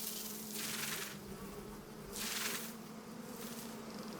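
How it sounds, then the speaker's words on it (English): A swarm of Himalayan giant honey bees buzzes at a cliff face in a dense, loud drone that swells and recedes in waves, with no voices heard. "The bees are the biggest in the world and amongst the most dangerous."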